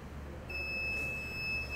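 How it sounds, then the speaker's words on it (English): An electronic buzzer on a Raspberry Pi, switched on by a voice assistant, sounds a continuous high-pitched steady tone that starts abruptly and holds, fairly quiet and alone. "Alexa, turn on the buzzer. This can be annoying."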